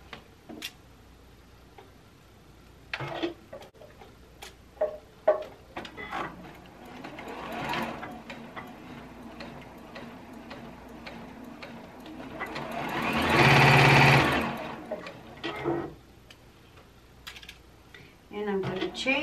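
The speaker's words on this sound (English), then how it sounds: "Time to sew." A sewing machine stitches pajama pieces, with scattered ticks and clicks from handling and adjusting, then one loud sustained burst of stitching near the end, with more clicking afterward.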